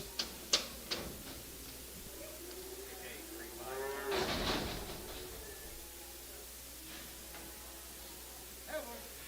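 Cattle low and moo at a calf and stocker auction at OKC West. A drawn-out moo rises over a quiet hall with a few sharp clanks, heard faintly and fairly distant, with no auctioneer chant during it.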